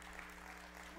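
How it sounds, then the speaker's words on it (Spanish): A church congregation applauding in a steady, wash of clapping, fairly quiet and continuous with a low hum beneath. "Denle una ofrenda de palmas."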